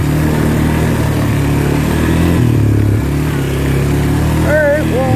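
A motorcycle engine revs hard and steadily during a ride, loud and close with a buzzing drone that swells and dips through the throttle; wind noise underneath and a brief voice near the end.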